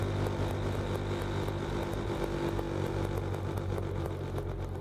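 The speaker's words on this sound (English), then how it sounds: "Sixth gear at 1000 RPM." A Jaguar F-Type fitted with a lightweight flywheel, cruising in sixth gear at around 1000 RPM, gives a steady, continuous low engine drone with a rough droning rumble, heard from inside with no talking.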